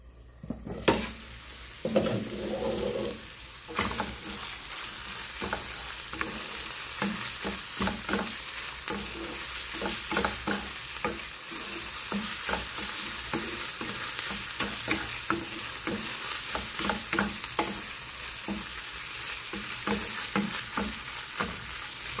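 Ground pork sautéing in a pan for giniling with potatoes and carrots, a loud continuous sizzle with frequent scraping stirs of a spatula, close up and steady throughout.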